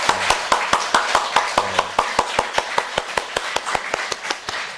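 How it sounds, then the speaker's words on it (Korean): A congregation at a Korean Presbyterian church service claps in rapid, evenly spaced unison beats, crisp and close, repeating steadily for several seconds. "우리 격려의 박수 하도록 하겠습니다."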